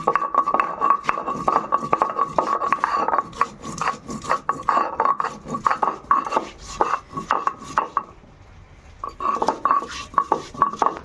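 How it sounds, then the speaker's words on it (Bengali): Cumin and ginger are ground on a shil-nora grinding stone, producing rapid, rhythmic scraping and knocking strokes of stone on stone. The strokes run steadily close up, pause briefly near the end, then resume. "আমি জিরা আর আদাটা শিলনোড়া নিয়ে নিয়েছি। এখন সেটা আমি বাটবো"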